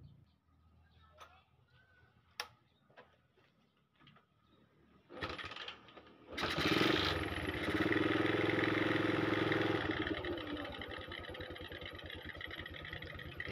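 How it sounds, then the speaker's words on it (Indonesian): Yamaha MX motorcycle engine starting after scattered clicks and clunks, then a close steady idle that settles into a continuous hum. "Di sini motornya sudah hidup normal."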